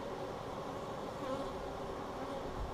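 Honey bees swarm around an open hive during an inspection without smoke, a dense continuous buzzing drone of many insects close by, steady and unbroken throughout.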